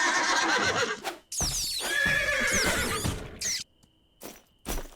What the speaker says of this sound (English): They will absolutely attack your horse.